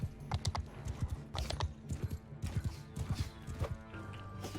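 Horse hooves clip-clopping at a gallop in a Game of Thrones mod battle game, a quick irregular run of near, loud hoofbeats mixed with battle clatter throughout.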